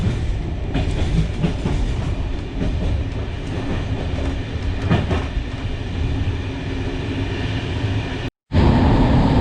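A passenger train in Bulgaria rolls steadily along the rails, a continuous loud rumble with faint clickety-clack wheel rhythm, briefly cut out near the end before resuming.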